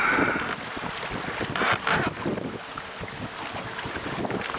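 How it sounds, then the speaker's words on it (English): Wind blowing over a boat rocking on rough water, loud gusty rushing across the microphone with water splashing and hull bumps, continuous throughout with no voices. "Pretty windy out today,"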